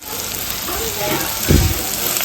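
Green chillies fry in a pan on a gas stove at medium flame, giving a continuous loud sizzle with a brief burst of stronger crackling midway.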